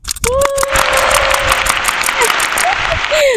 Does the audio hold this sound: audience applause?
yes